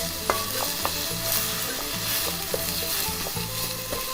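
Minced pork stir-frying in a pan for nam prik, with a loud, close, steady sizzle, repeated spatula clicks and scrapes, and a low droning hum underneath, no talking.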